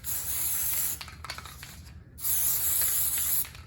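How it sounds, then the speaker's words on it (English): Spray adhesive glue hisses from an aerosol can in a workshop, two loud sustained bursts split by a short pause, close and with no talking. "Try to glue it where your overspray will go, where it will do some good."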